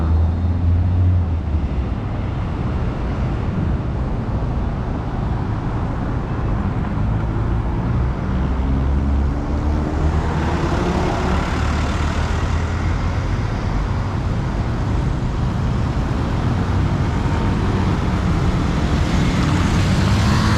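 Steady city street traffic in Kuala Lumpur, with many buses and cars passing on a busy roadway; a continuous loud rumble of engines fills the scene, swelling now and then as heavier vehicles go by.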